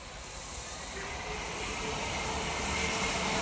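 The Flying Scotsman steam train passes by, a loud, steady broadband hiss and rush that swells gradually toward the end, with faint voices in the background.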